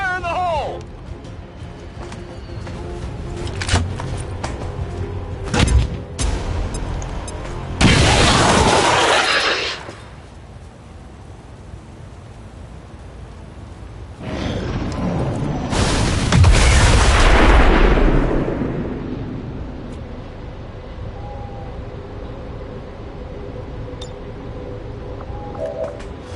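In XCOM, a grenade goes off in two loud, roaring bursts of explosion with crashing debris, each lasting a couple of seconds, set against steady in-game ambience and sporadic voice lines.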